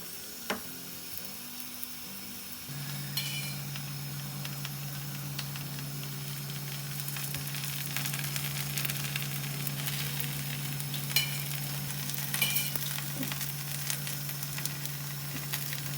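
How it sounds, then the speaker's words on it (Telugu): Onion parotta frying on a hot griddle: a steady, even sizzle and hiss that holds throughout, close up, with a low constant hum underneath and occasional faint scrapes. "ఇప్పుడు ఈ పరోటాని వేడివేడిగా ఉన్న పెనం మీద వేసేస్తున్నాం"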